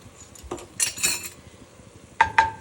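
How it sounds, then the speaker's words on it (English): A utensil clinks and scrapes against a pot while Italian seasoning and garlic powder are stirred in, giving a few sharp metallic knocks and rattles between quieter scraping strokes. "And we're going to get that all nicely stirred around"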